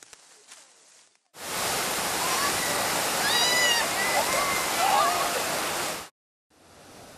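Kitayama River, a clear stream on the Mie–Wakayama–Nara border used for log-raft rides, rushes in a steady broadband roar that swells up for several seconds and then cuts off, with faint bird-like chirps over the water.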